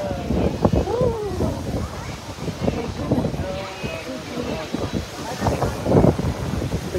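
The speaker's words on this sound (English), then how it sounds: "Oh, it's so windy." Strong, cold wind gusts roar across the microphone outdoors in Las Vegas on New Year's Eve while a person talks over it, the blustery noise rising and falling.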